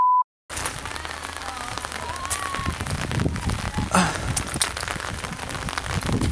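Steady warm rain patters and hisses on surfaces nearby in the Fijian jungle, a dense continuous drumming after a brief beep at the start.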